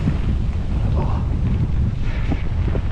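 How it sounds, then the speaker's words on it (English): Strong wind buffets the microphone in a continuous loud low roar, gusting unevenly throughout with no pause. "And the wind is strong."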